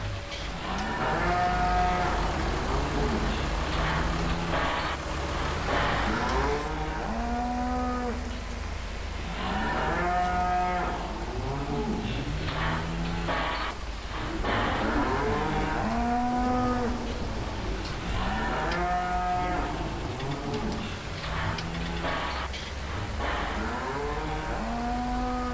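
Several cows in Farming Simulator 19 on an Irish farm map moo repeatedly and loudly, overlapping calls in a continuous herd chorus lasting throughout over a low steady background hum.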